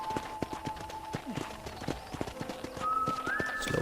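Horse hooves clip-clop in a steady trot in Red Dead Redemption, close and rhythmic, with a faint whinny-like tone and some game sound toward the end.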